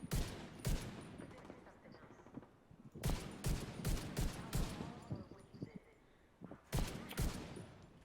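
Gunshots from a picked-up firearm in The Division 2 crack out in several loud bursts, each a few rapid shots. Quieter game ambience fills the gaps.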